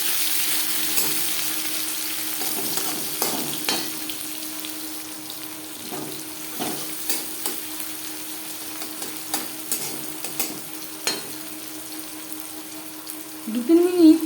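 Chopped onion and a bay leaf frying in hot mustard oil for a mutton curry, a steady soft sizzle with occasional stirring scrapes and small pops, close up, with a louder burst of crackling near the end.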